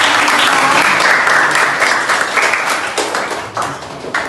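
A classroom of students in an Indonesian school lesson applauds with steady, loud clapping that gradually thins out.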